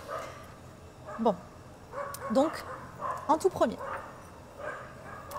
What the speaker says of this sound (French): Désolée pour les chiens que vous entendez derrière, il y a beaucoup de chiens à Bali à chaque fois.